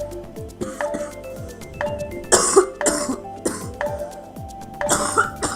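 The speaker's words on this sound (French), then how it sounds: "En tout cas, excusez-moi pour ma toux." Someone coughs and clears their throat several times close by, in rough bursts over a background of game sounds and faint clinks.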